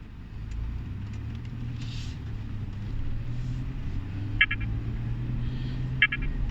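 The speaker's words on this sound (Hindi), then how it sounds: "अभी मैं अपनी गाड़ी को रन करता हूँ।" A car engine hums low and steady while driving during a continuous GPS topographic survey, with faint electronic beeps from survey equipment sounding twice near the end.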